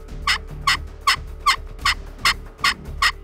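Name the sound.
wild turkey gobbling during strut display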